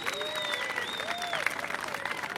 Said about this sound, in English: Can everybody just give a cheer for this amazing announcement?